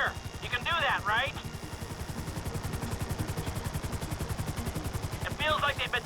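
Helicopter hovering in Grand Theft Auto V, a rapid rhythmic rotor chop thudding steadily throughout, with short bursts of voices talking over it at the start and end.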